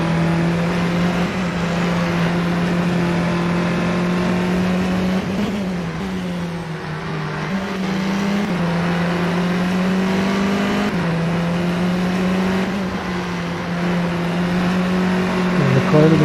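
A British Formula 4 race car at Snetterton in a sim racing game, its engine droning loud and steady at high revs with brief dips and pickups as the throttle is worked through corners, continuous throughout.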